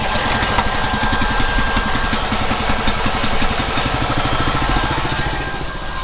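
A farm engine idles steadily while warming up at planting time, a loud, close, even chugging throb with a constant rumble.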